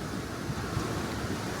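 Pacific Ocean surf breaks on a California beach, a steady broadband wash of waves mixed with wind buffeting the microphone, with no voices over it.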